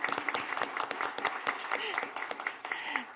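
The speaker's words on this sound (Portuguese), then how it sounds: "Podem bater palmas também para o Jerônimo" People gathered at a book event applaud in a steady burst of clapping, moderately close, with some voices mixed in.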